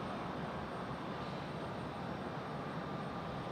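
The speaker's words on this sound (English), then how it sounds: "Airbus A321, 200, coming in from Charlotte." An Airbus A321-200 arriving at Raleigh-Durham airport from Charlotte, heard as a steady, broadband engine roar that stays loud and even throughout, with no voices.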